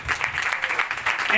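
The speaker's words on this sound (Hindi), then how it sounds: "भाई के लिए तालियां बजाएं जोर से।" Audience applause at a religious gathering on the grace of God, a short burst of dense, steady clapping from a crowd filling the whole moment.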